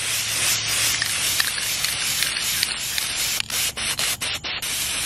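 Spray paint hisses steadily from an aerosol can onto a cardboard box fort, a broad, dense hiss that runs continuously before breaking into several short bursts near the end.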